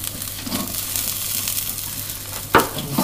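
Onion and carrot sizzle steadily in a hot pan for stew, a continuous frying hiss with a sharp clatter of stirring near the end, no voices.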